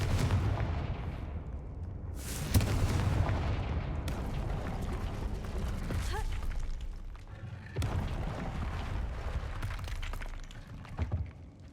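A Confringo fire spell is cast in a wizarding video game, several heavy booming blasts spaced a few seconds apart over a low rumbling game background, no talk.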